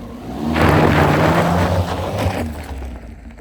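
A Fiat Panda 4x4 driving with power only to the front wheels, an engine drone rising and then easing off over a few seconds with wind and road rush, heard close with no talking.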